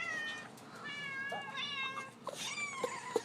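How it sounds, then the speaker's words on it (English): A cat meowing repeatedly in a playing cat video, several drawn-out and rising meows in a row, moderately near and soft over faint background hiss, with no talking. "I'm playing it in the YouTube cat video"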